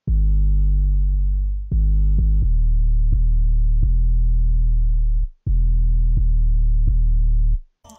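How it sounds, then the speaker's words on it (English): Phonk-style 808 bass pattern: loud, deep, distorted sustained notes retriggered in a syncopated rhythm with pitch changes, several long tones broken by quick stabs, dry and close with no talking. "And the main 808 pattern sounds like this."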